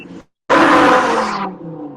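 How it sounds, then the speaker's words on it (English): A car engine revs in a loud, roaring burst lasting about a second, then drops back to a lower idle rumble. "Stop revving your fucking car."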